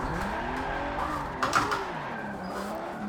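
Drifted car in Forza Motorsport 7, a Noriyaro R32 Skyline, pulled through a corner on the e-brake: a steady engine drone under a rising tire squeal that peaks sharply midway, then settles back into the hum.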